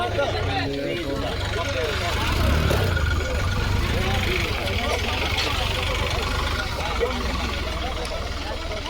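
A vehicle engine idles steadily and loudly nearby while goods are loaded, a continuous low rumble throughout with voices talking over it.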